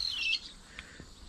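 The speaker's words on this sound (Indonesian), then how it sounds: "burung-burung berkicau juga banyak nih" Birds chirp and squawk in a forest near a lake, with a bright burst of high calls at the start followed by a few faint, scattered chirps over quiet background.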